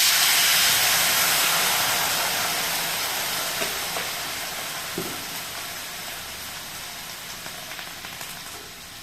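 Water poured into a hot pan while cooking with black pepper sets off a loud steamy sizzle that slowly fades over several seconds, with no voices over it.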